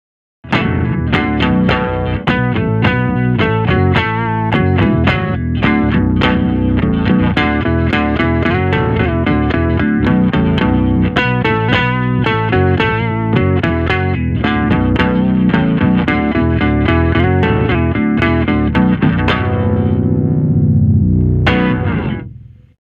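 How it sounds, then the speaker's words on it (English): Electric guitar through a digital octave pedal, a thick doubled riff of fast picked notes with extra low body, played loud and continuously before a closing chord rings out and cuts off. "here's what the guitar sounds like with the octave pedal switched on"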